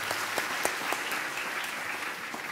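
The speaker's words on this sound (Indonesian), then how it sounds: "Luar biasa, tepuk tangan" An audience at an Islamic religious gathering bursts into brisk, close applause, dense clapping with a few sharp standout claps, continuing throughout.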